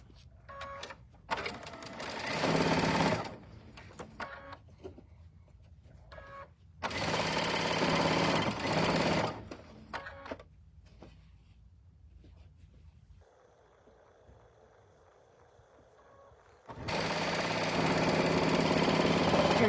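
A sewing machine stitches quilt block seams in bursts of fast, loud rhythmic whirring separated by quiet pauses, with a softer motor hum between runs.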